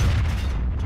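A single deep boom from a tank gun firing at an IS-7 in World of Tanks, a heavy low-frequency blast with a rumbling tail lasting under a second.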